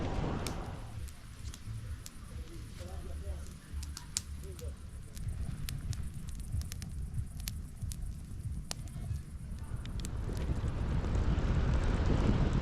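Steady headwind on a bicycle ride buffeting the microphone with low rumble throughout, growing stronger near the end, over an outdoor broadband hiss.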